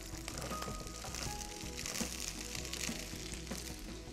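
Chickpeas sizzle in a hot pan with curry leaves and spices, a steady, dense crackling spatter that holds close and even throughout, with no voices.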